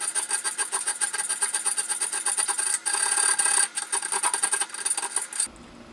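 A chainsaw file rasps rapidly back and forth across a cable Damascus knife guard, a bright, steady scraping rhythm of close strokes that pauses briefly twice and stops just before the end.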